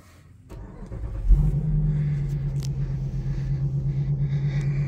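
A Dodge Durango R/T fitted with custom carbon wheels cranks briefly, catches and starts, then settles into a steady low rumbling idle, close and alone, with a faint pulsing throb.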